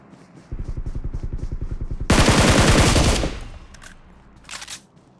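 Video game gunfire, starting as a steady rapid burst of automatic shots and giving way to a loud, dense volley, followed by a brief fainter burst, with no talking.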